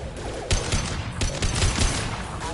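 A concussive shot fired in Mass Effect 2 amid ongoing combat, heard as sharp broadband bursts at about half-second and 1.2 seconds over a dense, continuous backdrop of gunfire and battle noise.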